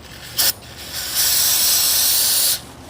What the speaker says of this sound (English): Actually, the O'Reilly brake cleaner works pretty good for getting this off.